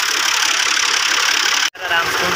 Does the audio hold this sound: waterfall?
no